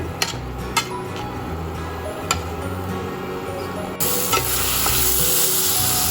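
Cubed tomatoes sizzling in a hot pan for sardine sambal, stirred with a utensil that clicks sharply against the pan a few times, the frying growing louder and brighter toward the end.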